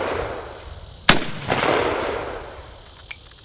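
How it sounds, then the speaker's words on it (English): A single sharp, loud Johnson rifle gunshot cracks nearby and rolls into a long outdoor echo, followed by a faint click. "I'm just going to kind of shoot it like this"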